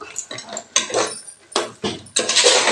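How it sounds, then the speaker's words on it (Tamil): Ven pongal being stirred in a metal pot in a home kitchen, with repeated clinks and scrapes of a spoon against the pot in short bursts, fairly close and moderately loud. "கொட்டிட்டு நல்லா கலந்து விட்டுக்கலாங்க."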